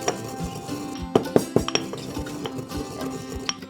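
Cumin seeds are ground in a mortar with a pestle, giving close, sharp clinks and scraping knocks in an uneven rhythm, with no talking.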